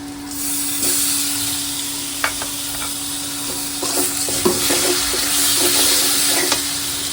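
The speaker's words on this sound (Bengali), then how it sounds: "রেডি করা মশলাটা দিয়ে দেবো" Prepared spice paste fries in a pan for a fish curry with gourd, a loud continuous sizzle broken by repeated spatula scrapes and taps close up.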